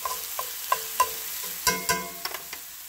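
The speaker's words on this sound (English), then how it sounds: "Let that get a little soft and the onions get translucent." Onions soften in a pan, with a utensil scraping and tapping against the pan in a loose, irregular rhythm. A faint sizzle sits underneath, and there is no talking.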